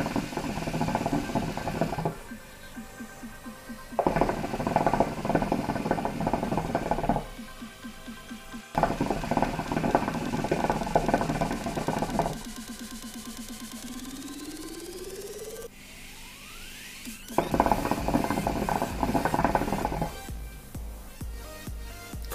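Hookah smoke drawn through the water bowl with peach passion shisha tobacco, heard as several long bursts of loud, close bubbling and gurgling separated by quieter pauses, with no talking.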